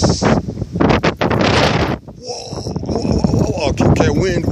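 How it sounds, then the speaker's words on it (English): Strong wind during a Denver snowstorm buffeting the microphone in loud, rumbling gusts, with a voice talking over it. "Okay, wind. You need to be cool. You're blowing a little too hard."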